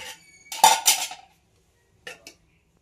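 Cutlery and dishes clink as rice is served onto a plate in a home kitchen, with a bright burst of metal-on-plate scraping and clattering, then a short pause and two more quick clinks, close by and alone.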